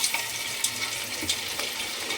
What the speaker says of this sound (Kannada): ಅರ್ಧ ಗಂಟೆ ಬಿಟ್ಟು ಇವಾಗ ಎಣ್ಣೆಯಲ್ಲಿ ನಾನು ಹಾಕ್ತಾಯಿದ್ದೀನಿ